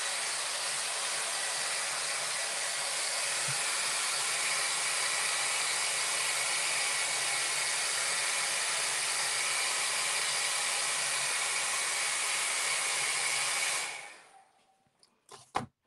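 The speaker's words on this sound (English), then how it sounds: "I love having a blow dryer at my station" A cheap blow dryer drying acrylic paint on a canvas at an artist's painting station runs as a steady, loud, broadband hiss for about fourteen seconds, then cuts off, leaving a few faint clicks and handling noises.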